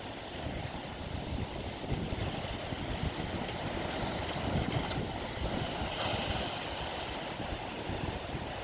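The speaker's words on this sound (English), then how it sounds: "the waves are still hitting pretty hard out here" Waves breaking steadily against the Lake Michigan shore in early spring, a continuous loud wash of surf mixed with wind buffeting the microphone, with no voices.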